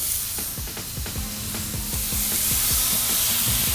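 Blackened catfish sizzles loudly in a hot pan, a constant frying hiss with popping and spattering crackles throughout.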